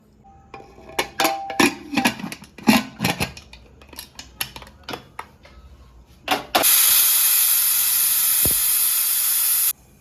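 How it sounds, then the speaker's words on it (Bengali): A few close clinks and knocks from a kitchen give way to a pressure cooker boiling peas for ghugni, which lets out one loud, sharp steam whistle lasting about three seconds. "ভালো করে মটরটাকে চার পাঁচ সিটি দিয়ে সিদ্ধ করে নেব"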